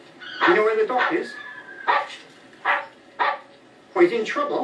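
A dog barks in short bursts spread across several seconds, mixed in with steady talking voices in an indoor drama scene.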